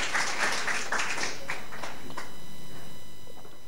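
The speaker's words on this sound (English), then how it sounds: "I deserve a clap, right?" An audience at a live storytelling event claps in a dense burst of applause that slowly thins out and fades toward the end; no talking over it.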